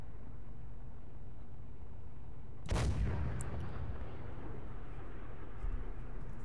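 A single loud, booming tank cannon shot from a medium tank in Garry's Mod ACF erupts after a stretch of steady engine rumble, its blast decaying into a long rolling tail.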